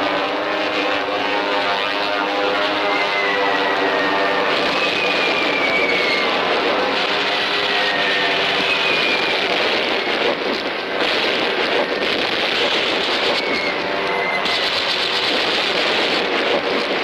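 Japanese warplanes flying overhead during a wartime bombing raid on Singapore, a steady loud propeller-engine drone with wind-like rush that holds throughout without a break.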